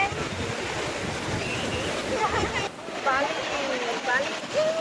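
Sea waves wash in at Digha beach with a steady roar of surf and wind close by, while people talk and shout over the water.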